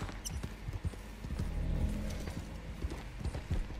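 Steady clip-clop of horse hooves trotting in the video game Red Dead Redemption 2, with a continuous rhythmic clatter over a low background hum.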